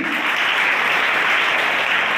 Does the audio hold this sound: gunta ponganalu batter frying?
no